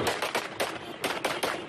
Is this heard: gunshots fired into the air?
yes